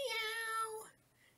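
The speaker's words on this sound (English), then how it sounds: "Can you meow like the cat?" A cat gives a single clear, drawn-out meow. It is close and alone, and it falls away into quiet after about a second.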